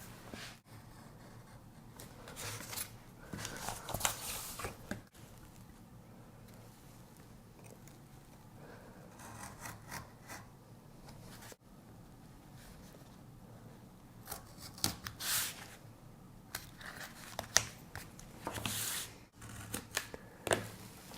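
A craft knife scraping and slicing through stencil material along a straight-edge ruler, with repeated close, dry rasping strokes coming in bursts and separated by short pauses.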